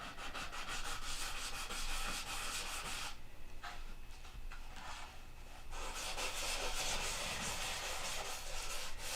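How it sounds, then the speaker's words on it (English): A Dremel rotary tool sands a surface with a continuous, gritty rasping whir, eases off for a couple of seconds midway, then resumes steadily. "I have to hit that with the rotary."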